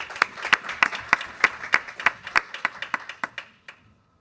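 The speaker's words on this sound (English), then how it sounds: "Let's give him another round of applause for this service." A school board meeting audience gives a round of applause, a sparse scattering of distinct hand claps in a loose rhythm that thins out and fades to silence near the end.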